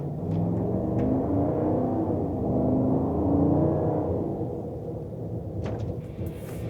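A lifted 2025 Cadillac Escalade on custom wheels and tires cruising down a straightaway, its engine a steady low rumble that swells midway and then eases off.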